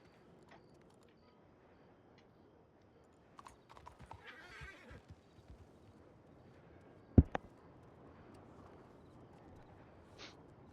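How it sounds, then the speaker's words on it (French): Horse in a western video game: quiet clip-clopping hooves build up, then a sharp loud whinny rings out near the middle, followed by a few more hoofbeats and a softer snort, all fairly faint. "Ah, bon bah j'ai appelé mon cheval sans le faire exprès."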